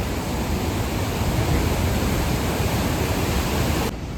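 Rushing mountain river water near Govindghat on the Hemkund Sahib trail fills the scene with a loud, unbroken roar that drops off abruptly at the very end.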